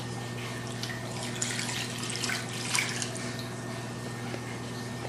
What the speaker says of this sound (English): I would put some water in there, maybe a cup of water